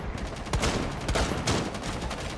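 Shotgun blasts ring out in a zombie shooter video game, three or four sharp booming shots spaced roughly half a second apart over a dense, noisy game background.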